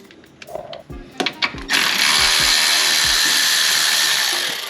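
A ratchet works 10mm bolts loose from the dust cover under a Lexus IS250/350. Short close clicking bursts come first, then a loud sustained whirring, likely a power ratchet, runs to the end.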